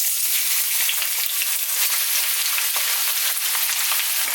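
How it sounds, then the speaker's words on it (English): Sliced onions frying in hot oil with cinnamon sticks, cloves and cardamom for an Indian chicken gravy, a steady, close crackling sizzle with faint stirring and no voices. "Add 2 sliced onion."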